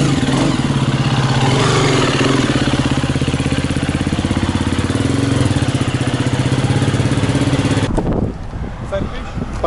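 A 2020 Husqvarna motorcycle engine idles nearby with a steady, rapid low throb, then the sound drops off sharply near the end as voices continue.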